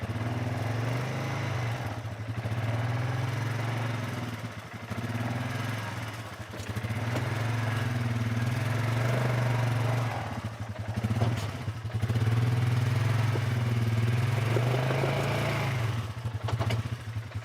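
A Polaris ATV engine drives off-road in low gear with all-wheel drive, a steady close low drone that swells and dips in revs, with clattering from the trail over the top.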